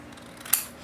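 Scissors give one crisp, quick snip through paper being cut for a flipbook, quiet and close.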